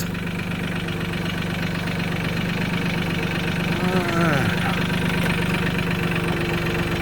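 A small tractor engine idles and labors steadily, its pitch shifting briefly midway as the machine strains in reverse against a tire off its bead.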